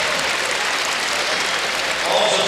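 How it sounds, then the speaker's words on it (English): A crowd at an indoor archery world cup final in Las Vegas applauds, a dense, even wash of clapping that holds steady throughout and swells slightly at the end. "They are applauding the perfection of Mike Schlosser"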